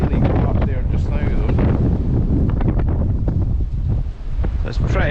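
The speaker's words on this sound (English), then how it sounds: "That wind's just really got up there just now" A strong gusty wind on the bank of the River Spey in Scotland batters the microphone with loud, uneven roaring bursts that hardly let up.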